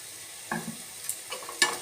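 A spoon stirs Maggi noodles mixed with masala, tomato sauce and soy sauce, giving a few soft, close scraping strokes and faint sizzling against a quiet background.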